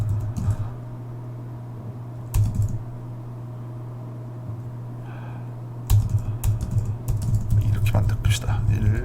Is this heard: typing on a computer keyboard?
yes